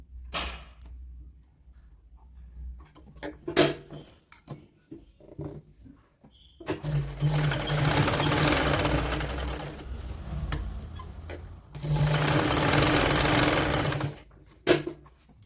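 A sewing machine stitches a child's woollen night suit in close, loud bursts of rapid needle chatter, two long runs separated by pauses with small clicks and handling sounds.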